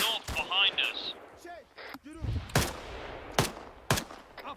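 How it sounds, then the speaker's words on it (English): Gunfire in the video game Arma 3 during a team patrol: sharp single shots cracking at intervals, some near and loud, with radio chatter and talk over the top. "I'm hearing shots from north behind us."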